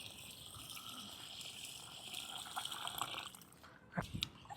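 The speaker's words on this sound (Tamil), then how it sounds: "ஃபஸ்ட்டு தண்ணியை ஆட் பண்ணிக்கலாம்" Water poured into a pot of rice for soaking, a close steady trickling gush that runs for a few seconds, then fades, followed by a brief clatter.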